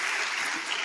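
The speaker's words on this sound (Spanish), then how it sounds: "Denle un aplauso al único y sabio Dios" Church congregation applauding during a Spanish-language sermon, a brief dense burst of clapping that fills the moment without any speech.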